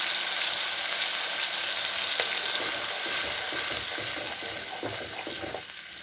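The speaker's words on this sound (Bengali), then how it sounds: "5 টেবিল স্পুন টমেটো পেস্ট। এটা এখন একটু কষিয়ে নেব ভালো করে।" Five tablespoons of tomato paste sauté in oil in a pan for a bottle-gourd fritter curry, a dense, steady sizzle up close with soft stirring scrapes that ease slightly toward the end.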